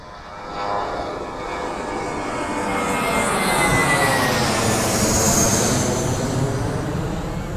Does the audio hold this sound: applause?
no